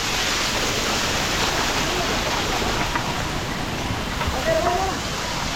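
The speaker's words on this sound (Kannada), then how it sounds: "ಚಿಕ್ಕ ವಾಟರ್ ಫಾಲ್ಸ್ ಇದೆ." Steady rushing roar of a small waterfall beside the Kedarnath trek, close and constant throughout, with faint voices underneath.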